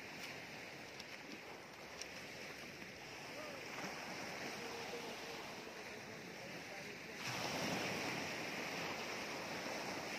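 Sea waves wash onto the shore at a beach in Surigao City, a steady broadband surf roar that swells louder near the end, with faint voices and some wind in the background.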